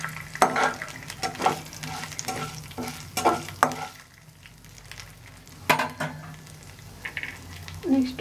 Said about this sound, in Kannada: ಸಾಸು ಸ್ವಲ್ಪ ಚಟಪಟ ಅಂದರೆ ನೋಡಿ, ಉದ್ದಿನ ಬೇಳೆ ಹಾಕೋತಾ ಇದ್ದೀನಿ.